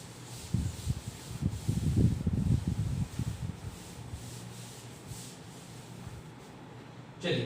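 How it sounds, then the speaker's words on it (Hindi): Writing being rubbed off a classroom board with a duster, a soft scrubbing swish in quick back-and-forth strokes, strongest early, then fading to faint rubbing with a brief knock at the end. "चलिए इसको रब कर देते हैं।"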